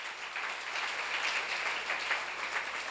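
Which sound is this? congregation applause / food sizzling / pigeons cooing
congregation applause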